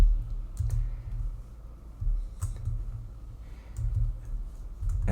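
Keystrokes click on a computer keyboard while entering Python list values, a few scattered taps in short bursts over a steady low hum from the room or computer, fairly quiet and close.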